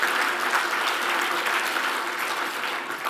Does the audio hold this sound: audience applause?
yes